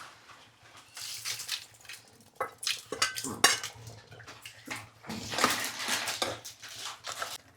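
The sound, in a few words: pouring tempering and dry coconut into gojju and mixing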